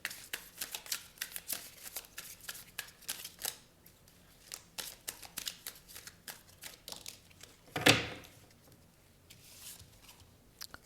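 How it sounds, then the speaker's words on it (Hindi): Tarot cards being shuffled and drawn, a long run of quick soft riffling patters and flicks up close, with one sharper louder card snap near the end; no one speaks. "कुछ और कार्ड्स हम निकालते हैं इस सिचुएशन पर"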